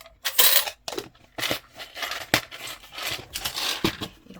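Coins clink and rattle as they are handled and dropped, in a quick irregular series of close, bright metallic taps with short pauses between.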